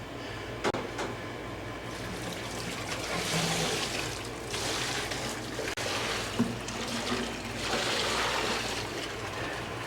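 Water pours steadily into a bucket for a boil out, a continuous splashing trickle with a few swelling surges, close by with no talking.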